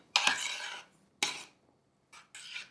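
A spoon stirs sugar and salt into thick creamy curd for dahi vada in a bowl, giving a few short clinking, scraping strokes separated by pauses, close and quiet, with no talk.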